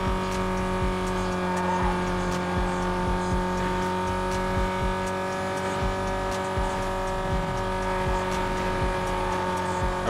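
A Chevrolet Cobalt SS with stock exhaust, intake and manifold upgrades, racing in Need for Speed: Most Wanted Black Edition, gives a steady droning engine hum with faint tire noise through the whole stretch, no one talking.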